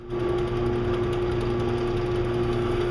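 Motorized jigsaw cutting through wood in a home workshop, producing a loud, steady buzzing drone with a fast reciprocating rhythm that runs unbroken and without speech.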